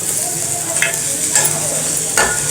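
Mixed vegetables for a foxtail millet pulao are sautéed in a pan, making a loud, close sizzle with several distinct scraping stirs from a spatula.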